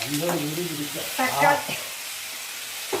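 Onions and tomatoes fry in a pan for tomato chutney, a steady close sizzle with a few stirring sounds, while a voice talks briefly over the first half.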